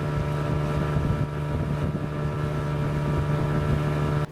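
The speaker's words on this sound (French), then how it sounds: "le bruit du moteur, mélangé aux vibrations de l'eau, rythme l'ambiance tout au long de la traversée" Outboard motor on a pirogue crossing open ocean in Senegal drones steadily and loudly, a constant mechanical hum mixed with water rush and wind buffeting the microphone, running alone without voices until it cuts off at the end.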